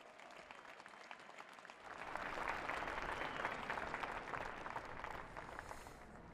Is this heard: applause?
yes